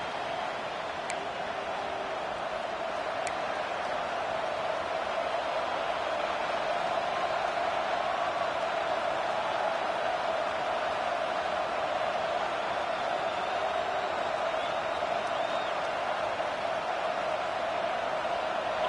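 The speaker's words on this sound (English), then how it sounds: "This crowd ready to make its presence known." A football stadium crowd buzzes in a steady, dense roar that holds evenly throughout, with a few faint ticks on top and no clear voices.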